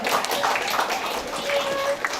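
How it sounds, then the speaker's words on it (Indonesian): An audience at a live insurance literacy event applauds in a dense, continuous patter of clapping, fairly close, with faint voices mixed underneath. "Tepuk tangan dulu buat teman-teman semua."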